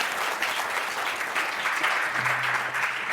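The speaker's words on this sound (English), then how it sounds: "So can I get a round of applause for them?" Conference audience at a critical-care data science session applauding the panelists, a steady, moderately quiet patter of many hands clapping throughout, with a faint low hum entering partway through.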